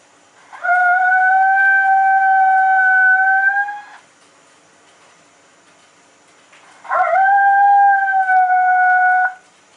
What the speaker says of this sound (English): This is the male coyote.